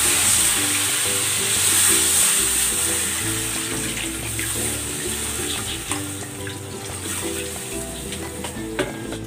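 Water pours into a pot of pork pata seasoned with salt, pepper and fish sauce, a steady close splashing and bubbling that runs throughout with a faint high hiss above it.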